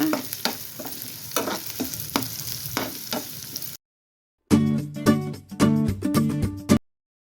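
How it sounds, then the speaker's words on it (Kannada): A large onion fries in a pan after mustard seeds, giving a near sizzle with rhythmic stirring scrapes, a short silent gap, then louder clattering stirring. "ಇದು ಈರುಳ್ಳಿ ಚೆನ್ನಾಗಿ ಫ್ರೈ ಮಾಡ್ಕೊಳ್ಳೋಣ"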